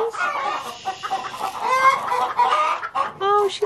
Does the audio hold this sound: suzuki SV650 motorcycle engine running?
no